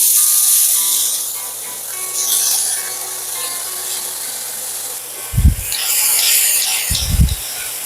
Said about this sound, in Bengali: আমি 2 মিনিট হাই ফ্লেমে সবজিগুলোকে সয়া চাঙ্কের সাথে ভেজে নিচ্ছি।